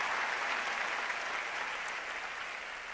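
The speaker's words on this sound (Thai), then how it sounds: "ถ้าใครเชื่อขอเสียงปรบมือดังๆหน่อยครับ" Fairly faint, steady applause from an audience at an Amway award ceremony in Thailand, a soft continuous hiss of clapping that eases off slightly toward the end.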